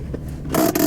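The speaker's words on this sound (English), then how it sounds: "You can hear a lot of squeaking and shit going on." Short squeaks and scraping creaks from the worn, lowered suspension of a BMW F82 M4, a few brief bursts in quick succession over faint road and engine rumble.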